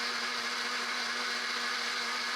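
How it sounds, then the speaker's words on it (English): A Silvercrest 600W SSMKH 600 A1 blender with stainless steel blades runs at steady speed, its motor whine and whirring loud and continuous throughout, with no voices. "The powerful 600-watt motor effortlessly blends and purees a variety of ingredients"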